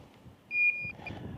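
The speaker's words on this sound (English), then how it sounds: "Sorry about that beeping." A single short electronic beep sounds as a drone starts up, then a quieter chirp follows, faint over a low background hum.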